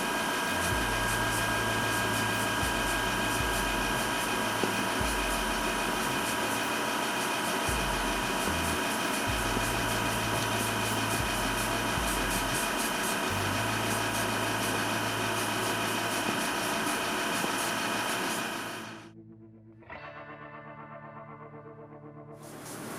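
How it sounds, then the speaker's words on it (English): An airbrush sprays paint in a steady hissing spray that runs continuously, with a low intermittent hum beneath it, ending in a brief quieter stretch with a faint mechanical whir. "I'm just going to go ahead and start to spray with just very, very controlled bursts"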